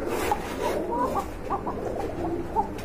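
A pair of Arabian coca pigeons coos in a repeated, soft, throaty rhythm, close by, with low background murmur and no clear speech.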